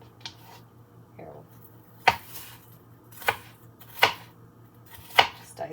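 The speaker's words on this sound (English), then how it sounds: "just dicing it up real nice and small, teeny tiny" Knife dicing food small on a cutting board while cooking Marry Me salmon, giving about five sharp, evenly spaced chops close by, with faint background hum and no talking.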